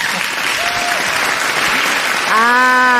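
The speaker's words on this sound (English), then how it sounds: "All of you, you are delaying your applause" Debate audience applause, a sustained wash of clapping that swells near the end, with a voice and a tonal sound rising over it.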